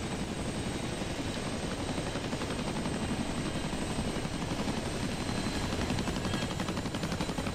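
OH-58 helicopter in flight, a dense continuous rotor chop and engine drone, loud and steady throughout.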